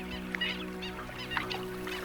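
Black-winged stilts call in repeated sharp, nasal yelps over a steady low hum, several short bursts spaced through the stretch at moderate distance.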